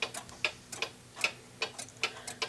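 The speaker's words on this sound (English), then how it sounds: "Here's my Waterford crystal clock." A Waterford crystal clock ticks quietly and evenly, about three crisp ticks per second in a steady alternating tick-tock, close and faint against a silent room.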